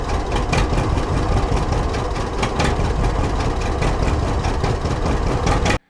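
A steady, loud tractor engine runs close by with a low, even idle throughout, its generator charging only weakly after the points were filed. The sound cuts off abruptly at the end.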